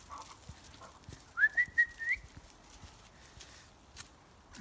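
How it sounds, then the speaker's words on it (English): A short, clear whistle to call a dog rises then holds a wavering tone for about a second, against quiet outdoor background with soft thuds. "That's me whistling to tell him not to go into the debris"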